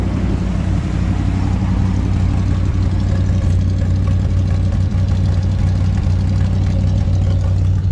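A 1990 GMC truck engine runs on its choke, a steady, close, rumbling idle with an even low throb throughout and no voices.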